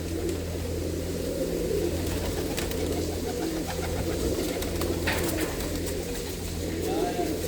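A flock of loft pigeons in Madhpur village near Samrala coo in a steady, close murmur throughout, with a low hum beneath and no clear talk.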